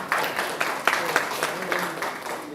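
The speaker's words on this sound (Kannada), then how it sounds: "ಜೋರ ಹೊಡಿಲಪ್ಪ ಚಪ್ಪಾಳೆ" An audience at a song launch event claps in short bursts, a scattered, moderately loud applause with uneven hand strikes, mixed with some background chatter.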